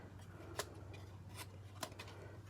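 Paper being cut with scissors during a card stamping session, a few quiet crisp snips spaced apart over a steady low hum, close and faint.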